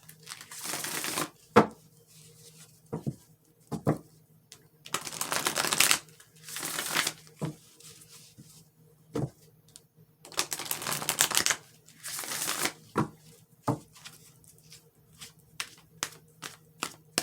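Psychic Card Tarot oracle cards are shuffled by hand in repeated riffling, rustling bursts with short slaps and pauses between them, close and fairly quiet.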